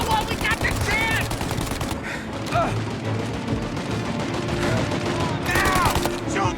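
An enemy mounted machine gun fires in sustained rapid bursts during a shootout in Mafia: Definitive Edition, loud and relentless, with shouted voices cutting in over the gunfire.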